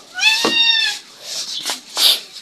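A house cat gives a loud, drawn-out meow close up, followed by two shorter, fainter meows, with no talking.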